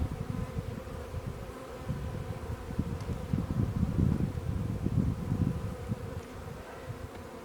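Honey bees buzz around a beehive lid in a dense, continuous drone that swells slightly midway, close and fairly loud, with no voices.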